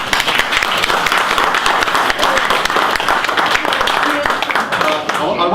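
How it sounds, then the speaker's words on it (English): An audience at a breakfast event applauds for Henry, a dense, sustained round of clapping filling the room at steady loudness, with some voices mixed in throughout. "A round of applause"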